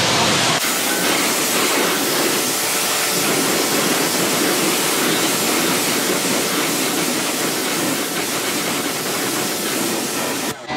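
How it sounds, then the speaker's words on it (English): A pressure washer rinses a filthy rim on an oxidized Infiniti's car wheel, a loud steady spray hissing without pause for about ten seconds, with no voices. "you can take your pressure washer and just rinse it down."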